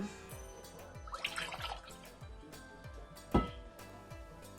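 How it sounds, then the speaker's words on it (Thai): Fresh coconut milk is poured into a mixing pot in a home kitchen, giving soft liquid splashing and trickling close by, with a sharper splash midway and faint clinks in the background. "จะเทน้ำกะทิใส่หม้อผสม"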